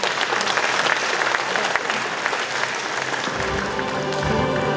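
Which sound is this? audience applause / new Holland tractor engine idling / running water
audience applause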